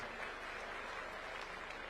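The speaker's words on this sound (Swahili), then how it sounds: "Wapi makofi ya Dr." A crowd at a gathering applauds Dr. Francis Shiyuka of the Kenya Security Industry Association, producing a steady, even wash of many hands clapping, fairly distant and soft.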